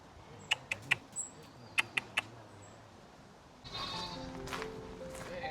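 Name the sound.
goats bleating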